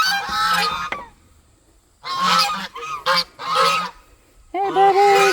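Geese at an outdoor feeding spot with ducks nearby honk loudly and close in several harsh bursts, separated by short quiet gaps.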